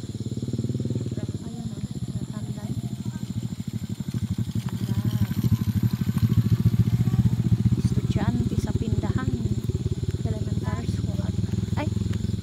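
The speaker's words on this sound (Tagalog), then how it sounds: "Puro na may mga motor dito guys, may service, isa-isang motor dito." Motorcycles run through a village street in the Philippines, their engines making a close, continuous rumble with rapid pulsing and some clatter, while voices are heard faintly over the noise.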